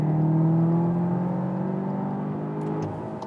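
A Volkswagen Arteon R GT with 320 hp and all-wheel drive accelerates while already at speed. The engine drone is loud, close and steady, with a rising whir, then eases off near the end.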